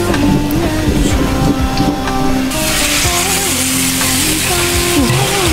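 Fish head marinade with ginger, garlic and a splash of wine sizzling and frying in a hot pot, a steady loud crackle running throughout with faint tonal hum and clatter beneath.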